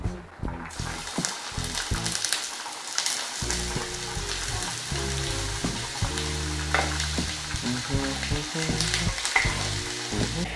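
Onions frying in a pan sizzle loudly and steadily, with occasional stirring and scraping over the hiss and some low background music, close and continuous throughout.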